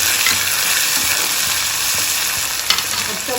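Onions and tomatoes frying in a pan for dal tadka, a loud, continuous close-up sizzle with faint stirring clicks underneath.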